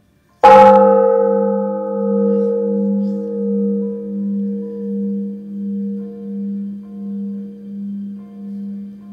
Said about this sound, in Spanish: La reverberación del sonido de esta campana es realmente fabuloso.